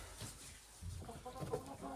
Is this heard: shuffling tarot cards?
no